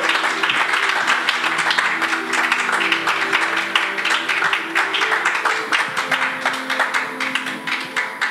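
A church congregation claps to acclaim its pastor, a broad wash of steady applause that gradually thins toward the end, with sustained tones from instruments ringing underneath.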